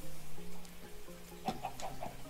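Chicken clucking in the Minecraft video game: a short burst of four quick, evenly spaced clucks toward the end, moderately loud over a steady background game tone.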